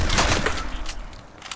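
Gunfire in a video game sounds as a quick cluster of sharp shots near the start, followed by a few fainter scattered pops.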